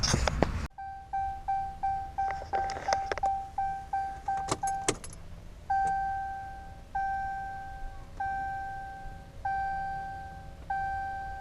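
Repeated electronic chimes sound at a steady pace, with clicks, a key jingle and a quiet mechanical hum as the diesel fuel system of a 2014 6.7 Cummins primes after a fuel filter change.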